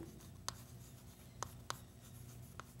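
Numbers being handwritten during an arithmetic lesson, heard as a few sparse, sharp pen or chalk strokes, four distinct taps spread over a few seconds against a quiet room hum.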